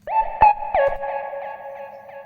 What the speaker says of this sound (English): Listen to the delays.